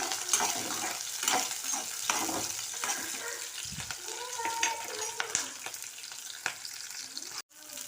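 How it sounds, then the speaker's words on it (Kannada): Green chillies and garlic frying in a pan, a steady crackling sizzle with stirring clatter and scraping throughout, fairly close, with a sharp clank near the end. "ನೆಕ್ಸ್ಟು ಒಂದು 4 ಹಸಿಮೆಣಸಿನಕಾಯಿ, ಒಂದು 2 ಗೆಡ್ಡೆಯಷ್ಟು ಬೆಳ್ಳುಳ್ಳಿ ಫ್ರೈ ಆಗಬೇಕದು"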